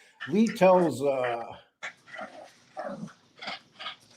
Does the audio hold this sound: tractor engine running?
no